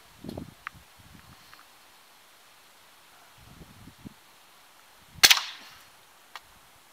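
An RWS Model 48 air rifle fires once with a sharp, loud crack followed by a short ringing spring twang, set among quiet rustling and faint handling noises.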